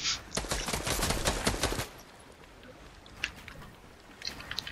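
Rapid video-game gunfire rattles in a dense burst for about two seconds, then thins to a few scattered sharp shots over quieter background noise.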